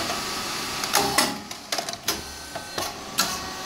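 An SYP9002 rice cake machine runs with its pump switched on, giving a steady mechanical drone broken by a series of sharp, irregular clanks and hisses close by, with no talking.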